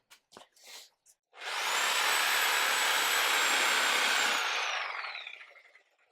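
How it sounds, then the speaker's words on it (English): A Sawzall reciprocating saw cuts through the head of a processed wild hog, a few faint knocks then one loud, sustained buzzing cut of about three seconds that whines down at the end. "make this job a little bit easier, we're going to use the sawzall to"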